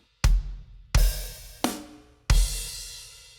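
Four separate loud drum kit hits in a song's pattern, each a heavy low thump with a bright splashing cymbal wash that rings out, spaced apart with no talking.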